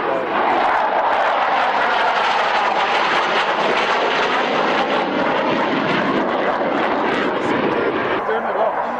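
An aircraft in a flying display at the 1996 Yeovil Airshow roars loudly and continuously, flown by pilot Anatoly Kochur, its engine noise sweeping broadly with a slowly shifting pitch as it passes.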